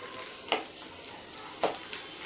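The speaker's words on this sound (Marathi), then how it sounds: "डिंक फुलतो त्यामुळे थोडं थोडं टाकून तळून घेऊ" Edible gum (dink) frying in ghee for winter gum ladoo, a soft steady sizzle with two brief brighter crackles as pieces puff up, no talking.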